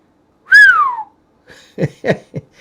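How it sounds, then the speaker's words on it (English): One loud, clear whistle slides downward in pitch for about half a second, followed by a few short, quieter sounds close by. "there's your whistle"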